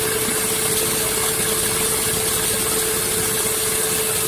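A Lego vacuum engine runs through a three-speed manual transmission with a steady, continuous mechanical hum and drone, close and loud, unbroken for the whole stretch, no voices.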